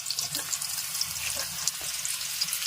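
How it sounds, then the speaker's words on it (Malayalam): Shallots sizzling with mustard seeds in hot coconut oil for a Kerala fish curry with Malabar tamarind, a steady close crackling fry with scattered sharp pops and light stirring, no talk. "ഇനി അപ്പോൾ നമ്മൾ ചുവന്നുള്ളി ഇട്ട് കൊടുത്തിട്ടുണ്ട്"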